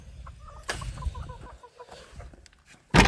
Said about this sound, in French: Encore les pondeuses, avec le gros coq qui prend son petit bain de soleil.